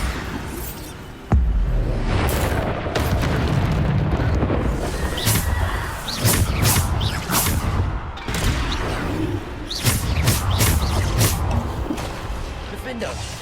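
A Bombarda spell blast from the Hogwarts Legacy video game, deep booming explosions and crackling impacts repeating through a loud, busy combat mix, with a voice shouting spell names over the noise.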